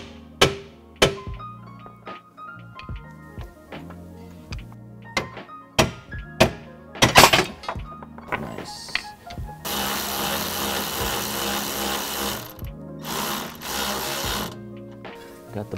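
Rear bolts are aligned and fitted while installing a coilover suspension kit on a 2015 or later Dodge Challenger: sharp metallic clanks and knocks spaced out, then a few seconds of loud mechanical buzzing or whirring, with no talk.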